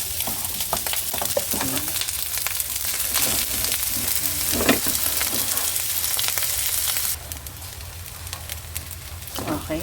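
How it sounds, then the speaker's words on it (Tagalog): Cooked rice being stir-fried into sinangag in a pan, with a loud steady sizzle and frequent scraping stirs close by; the sizzle drops to a quieter level near the end. "ito na yung kanin natin na sinasangag"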